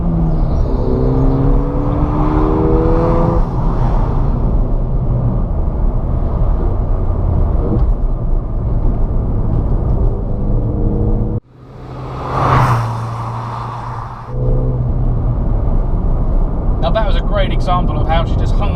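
A Ford Fiesta ST, a front-wheel-drive hot hatch, driving through a corner, its engine a steady close drone with road and wind noise, a brief drop and surge midway, while someone talks over it.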